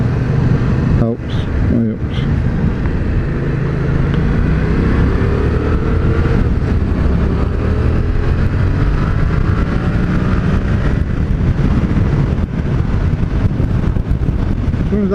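A Yamaha MT07 motorcycle rides under throttle with steady engine drone and heavy helmet wind rumble throughout, loud and continuous; a rider speaks over it.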